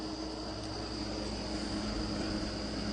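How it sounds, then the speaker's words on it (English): A window air conditioner that is making strange noises gives off a steady, jet-like droning whine with a constant high tone, heard from a short distance away with no talking. "it's the air conditioning up in my grandson's window. It's making strange noises."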